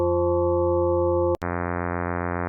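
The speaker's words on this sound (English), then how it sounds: "Additive synthesis is combining different sine waves at different frequencies to make a sound." Pure sine tones built up in a Serum software synth by additive synthesis: a steady low-pitched stack of harmonics switches abruptly after a brief gap to a brighter, denser stack with a slight pulsing flutter, loud and alone.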